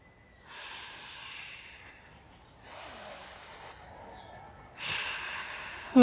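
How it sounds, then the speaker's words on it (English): Three slow ujjayi yoga breaths, each a soft, hissing, ocean-like rush of air through a constricted throat, rising and falling in a steady rhythm, close and quiet with no talking. "Ujjayi breath"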